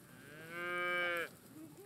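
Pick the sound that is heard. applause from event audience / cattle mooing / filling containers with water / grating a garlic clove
cattle mooing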